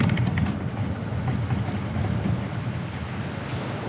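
A clear river flowing beneath a walking bridge outside an RV park lodge, a steady broadband rushing of water with no breaks, fairly close and continuous throughout.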